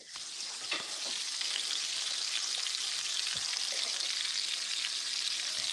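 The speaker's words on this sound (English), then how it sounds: "It sounds like you frying. What you frying out there?" Onions and mushrooms fry in a pan with a steady, close sizzle and occasional pops, continuous and unbroken with no talk.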